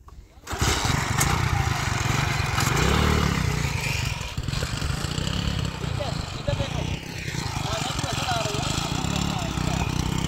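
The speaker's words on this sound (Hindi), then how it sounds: "मुझे बाइक स्टार्ट करने दो यार" A motorcycle engine kicks to life and settles into a loud, rough, steady idle close by, chugging continuously with a clattering edge as voices talk over it.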